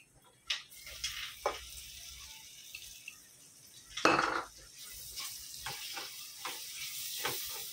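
Chopped onions sizzle quietly in a pan with turmeric and salt, a soft frying hiss broken by the scrape and clink of a spoon stirring several times, no talk.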